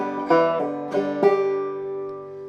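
Clawhammer banjo playing the second measure of She'll Be Comin Round the Mountain: three plucked strikes with ringing strings, close and solo, the last note left to sustain.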